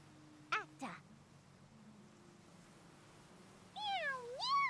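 A cat meows a few times in the video game Octopath Traveler II, short rising and falling mews near the start and again near the end over a soft game background, with a voice speaking.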